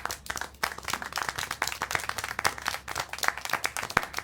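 Steady applause from a small group rings out in a scene from the video game Syberia: The World Before, a dense patter of hand claps at moderate volume with no talking.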